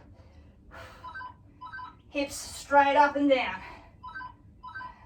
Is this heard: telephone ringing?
yes